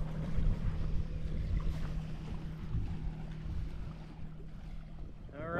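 Strong wind buffets the microphone while paddling a canoe on the Moose River near Jackman, Maine, a constant low rumble and rush of moving water with no break.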